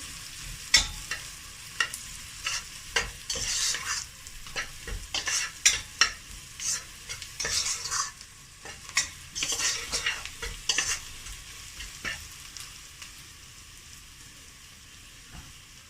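Ginger, garlic and marinated chicken sizzle and fry in a pan while a utensil stirs and scrapes repeatedly, with irregular clinks and scrapes over a steady hiss. No talking.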